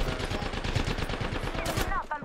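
Rapid gunfire in a video game rattles in a fast, even burst of repeated shots, with quick whooshing effects near the end, all at moderate volume without clear speech.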